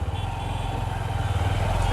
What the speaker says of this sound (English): This bike accelerates.